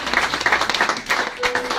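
A church congregation clapping to acclaim the Lord during a baptism service, a steady, fairly dense patter of many hands filling the room at moderate volume, no speech over it.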